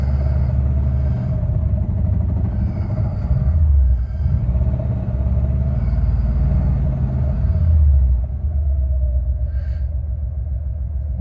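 A 1989 Mercedes 560SEL engine idling, a deep steady rumble with a faint hum on top, close and fairly loud, with slight swells in level and no talking.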